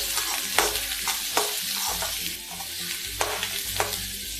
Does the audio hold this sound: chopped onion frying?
yes